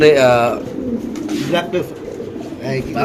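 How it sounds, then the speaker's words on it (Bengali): Black lace pigeons coo close by, their calls mixed with someone talking over them for the whole short stretch. "ব্ল্যাক লেস কবুতর ইনশাআল্লাহ দেখতে পাচ্ছেন আপনারা"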